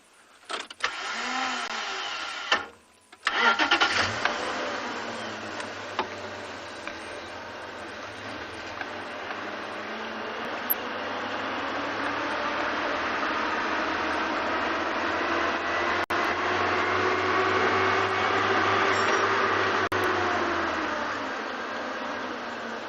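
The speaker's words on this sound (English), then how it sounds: "Sorry, to keep the engine low." A safari vehicle's engine starts after a brief cutout and then idles steadily on an afternoon game drive in South Africa, a continuous broadband rumble and whine that rises slightly in pitch, close and loud.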